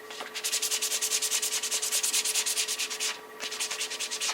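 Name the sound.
roughening slick rubber surface by rubbing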